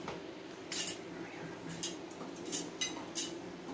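Metal canning lids set onto glass jars of chicken broth, a few light clinks and taps spaced irregularly over a quiet room, close by and fairly soft.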